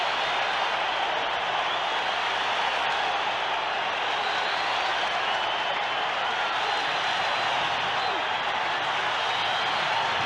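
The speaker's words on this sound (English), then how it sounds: "Crowd standing now as one, exhorting" Packed baseball stadium crowd at a 1981 World Series game, Yankees vs Dodgers, standing and cheering with sustained applause in a dense, steady roar that never lets up.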